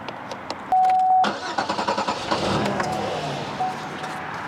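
An old auction car's engine cranks with a quick run of rhythmic starter pulses, then catches and runs roughly, close and fairly loud, with a brief tonal whine before the cranking.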